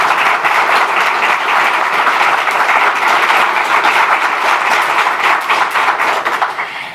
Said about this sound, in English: Give the First Lady a round of applause